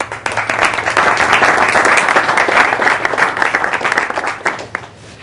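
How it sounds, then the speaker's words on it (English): An audience applauding at a business school lecture, dense sustained clapping from a large crowd that holds strong and then thins and fades toward the end. "I think that round of applause was really for me"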